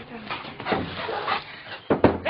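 A pit bull whimpers and gives a couple of short barks during protection-work training, the sharper bursts coming near the end over a steady background; a person's voice is also present.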